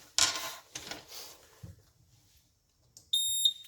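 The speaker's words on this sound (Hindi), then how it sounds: "So when level goes from yellow to red, device continuously short beep देके यूजर को अलार्म देगा।" A Swarn Jal A-SE water level indicator sounds its empty-tank alarm: a high electronic beep rings out near the end, after a few soft handling taps and knocks on the unit.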